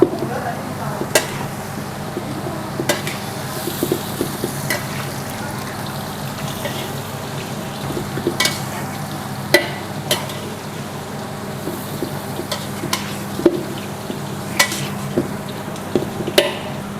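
Bean sprouts sizzle and clatter in a hot wok as they are tossed and stirred, with sharp metallic scrapes of a utensil punctuating the steady frying hiss.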